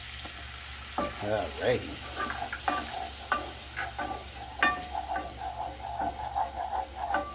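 Flour stirred into melted butter cooks in a pan, a low steady sizzle broken by scraping strokes and clicks of a utensil against the pan, with a brief word spoken near the start.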